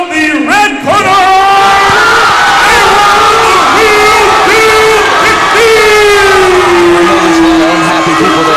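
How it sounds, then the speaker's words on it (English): A large crowd at a Bellator-style MMA fight event erupts in sustained booing and angry yelling after a split decision, loud and close, with voices rising and falling in long drawn-out jeers throughout. "there's some anger in the crowd over that"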